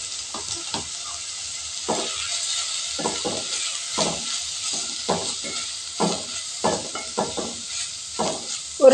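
Agathi greens stir-fried with grated coconut and cumin being stirred in a pan, a quiet sizzle broken by a regular series of spatula scrapes and taps, close by with no voices.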